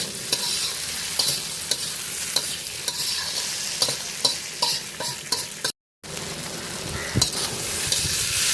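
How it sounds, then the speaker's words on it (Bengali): Potatoes being stir-fried with spices in a pan for a shredded-meat fat ghugni, a steady broadband sizzle with repeated scraping strokes of a spatula, briefly cutting out near the end before resuming. "মশলার সাথে ভালো করে আলুটাকে কষিয়ে নিতে হবে।"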